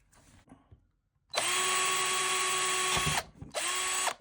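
A power drill with a small bit bores a tiny hole in a moon diorama: a brief faint buzz, then a long loud steady whine, a short stop, and a second shorter burst.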